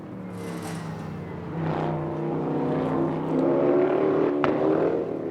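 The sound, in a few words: race car passing the grandstands during Le Mans qualifying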